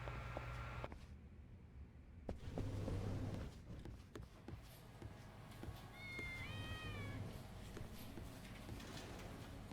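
Cats meow at a cat cafe, a few rising, wavering calls in the second half over a busy indoor room with soft background noise.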